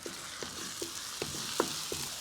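Onions and ginger-garlic paste fry in a pan on a village stove, a steady soft sizzle broken by about six light, evenly spaced scrapes of a stirring spoon, close and fairly quiet with no voices.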